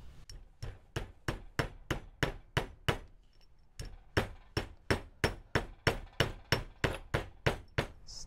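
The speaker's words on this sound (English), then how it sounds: "I'm not going to talk while hammering" Hammer blows on a metal wire being straightened on a desk for a split-shank ring. Sharp, evenly spaced strikes land close and loud, about three per second, with a brief pause before the rhythm resumes.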